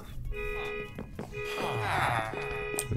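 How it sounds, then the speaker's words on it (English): A car alarm goes off in a modded Minecraft server game, sounding as a steady, repeating electronic tone that cuts in and out in bursts over game background noise. "somebody set off their car alarm"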